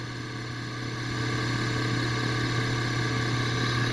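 A car engine idling steadily after distributor timing work with a Mallory dual-point distributor with vacuum advance, a continuous close, even drone with a low hum that grows slightly louder partway through.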